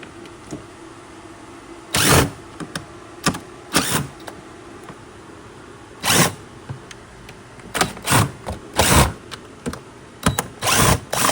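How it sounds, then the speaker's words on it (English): Short bursts of a power tool whirring on and off while removing the engine cover of a BMW X3 M with an S58 engine, several quick pulses spaced irregularly over a low mechanical background. "Gotta have a power tool. Makes life so much easier."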